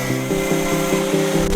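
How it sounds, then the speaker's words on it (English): A grinder cuts off the heads of three screws: a steady loud whine with regular pulsing changes in pitch as the disc bites the metal, heard alone. "We cut off the caps of 3 screws with a grinder"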